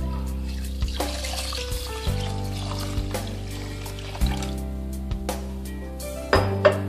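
Water is poured into a cooking pot until it covers the contents, a close trickling, splashing stream with a few light clinks against the pot, and no talking.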